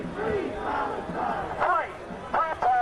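A large protest crowd at UCLA chanting together outdoors, a dense roar of many voices with rising shouts, steady and loud throughout.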